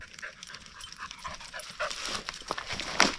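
A dog pants rapidly up close on a hillside hike, quick rhythmic breaths with a few soft whimpers and jingling sounds mixed in.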